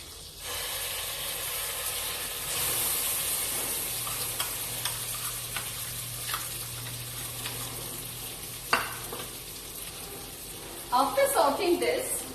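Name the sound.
sauteing garlic, tomato, chili and cashew paste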